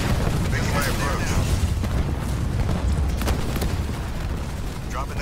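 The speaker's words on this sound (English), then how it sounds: "Anyone do something about that artillery?" Artillery fire in Halo Wars 2 sounds as a dense rumbling wash of distant booms and explosions under constant battle noise, with faint voice-like game chatter mixed in.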